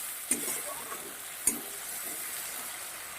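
Coriander-cumin powder and ginger paste sautéing in a pan, with a steady soft sizzle and two sharp stirring clinks standing out over the quiet, continuous frying hiss.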